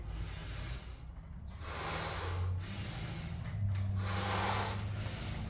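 A person doing standing biceps curls in a garage workout breathes heavily, with close, hissing exhales in rhythmic waves roughly every one to two seconds and no talking.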